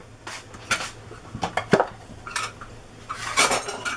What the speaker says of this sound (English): Just mix the flour and the sugar in together.